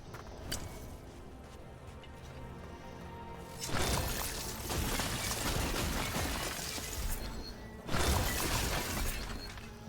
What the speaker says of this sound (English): he doesn't seem to mind that I'm smashing up the place